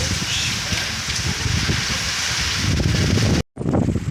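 Strong wind during a heavy rainstorm roars into the microphone as a constant broadband rush, with a brief dropout near the end and faint voices underneath.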